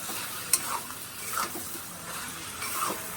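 A spoon stirs a shrimp and bean curry in a pot: soft, close scraping strokes over a steady bubbling sizzle, with a few light metallic clinks.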